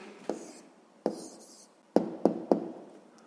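Pen or pencil strokes on paper while writing an answer to a grade-6 math problem, heard as five short taps and scratches spaced across a quiet background, close and soft.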